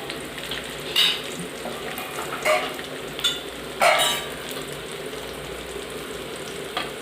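Chicken gudalu frying in a pan with crushed garlic, a continuous close sizzle broken by a few louder bursts as the pieces are stirred, no talk.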